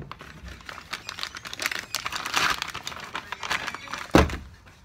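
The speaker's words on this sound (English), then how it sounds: "get my scissors and open it up" Scissors cut and crinkle through an Amazon package, producing a series of close rustling snips and crackles that build in intensity, ending with a sharp thunk.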